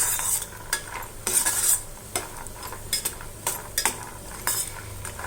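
Cashews stirred and fried in a pan for lemon rice, with a soft steady sizzle broken by repeated scraping strokes of a spoon against the pan, close and fairly quiet, with no talking.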